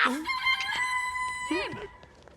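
A rooster crows loudly and close, a long drawn call followed by a second shorter crow, with clucking chicken sounds between them and no speech.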